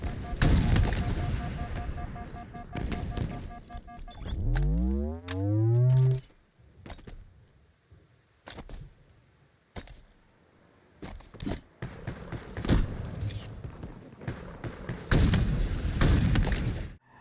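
Gunfire from a first-person shooter video game, heard as bursts of sharp shots and booming blasts mixed with a rising whooshing effect, with loud and quieter stretches alternating.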